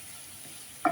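Garlic and ginger toast gently in a pan, making a faint, soft sizzle that ends in a short louder scrape or stir.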